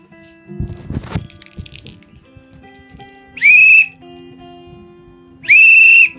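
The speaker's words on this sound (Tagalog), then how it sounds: "Imat, naririnig mo yung sipol?" Two sharp, loud whistle blasts sound a couple of seconds apart, with a quiet background and some clatter before them.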